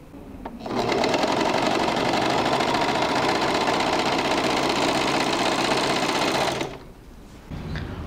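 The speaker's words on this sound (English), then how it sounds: "I'm gonna sew the sleeves together first. Sew and overlock before I attach it to the shirt." Sewing machine stitching shirt sleeves together for a men's ballroom competition shirt, running in one loud, steady, unbroken burst for nearly six seconds before stopping, with a faint rustle afterward.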